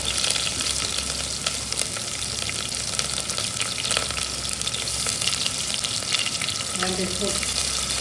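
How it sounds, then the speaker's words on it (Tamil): Cloves drop into hot oil for mushroom biryani, and a steady, dense frying crackle carries through with light stirring sounds, without speech. "கிராம்பு போடணும். போட்டோம்னா எண்ணெய் சூடாயிடுச்சு."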